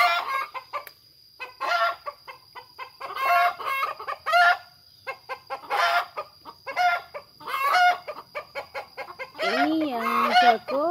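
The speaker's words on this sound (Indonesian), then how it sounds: "ayam kalau mau bertelur kasih pengumuman teman-teman" A hen about to lay an egg clucks repeatedly in loud, rhythmic bursts, building into a drawn-out cackle at the end, with a faint high hum running underneath.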